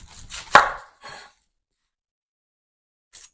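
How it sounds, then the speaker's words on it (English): Knife chopping a whole red onion on a cutting board: one sharp, loud cut followed by a couple of softer slicing strokes, then near silence and a faint brief tap at the end. "So I just cut the ends off and cut in half."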